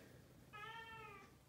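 A single clear meow from a cat indoors in a room with a work desk, close by and lasting under a second against faint room noise.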